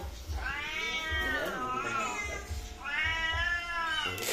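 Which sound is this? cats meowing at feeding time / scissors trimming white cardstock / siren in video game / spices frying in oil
cats meowing at feeding time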